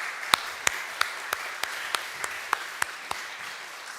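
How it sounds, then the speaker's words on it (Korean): Sharp, evenly spaced claps ring out at a Sunday church service, about a dozen distinct hand claps in a slow, steady rhythm over a quiet room. "우리 박수로 다 환영하면 좋겠습니다."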